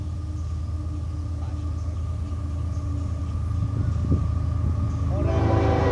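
A CSX, UP or Amtrak train rolls past with a steady low rumble and wagon rattle, a faint horn tone running underneath and building toward the end, fairly close, no talk.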